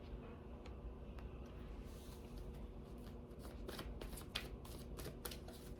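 Tarot-style cards are shuffled for a reading, a quiet run of riffling flicks that quicken into a rapid burst of card snaps near the end, close to the microphone.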